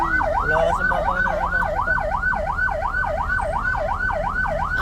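An ambulance siren wails close by on a street during a fiesta in Cavite, its tone sweeping up and down in a fast, regular cycle over traffic rumble, with no voices.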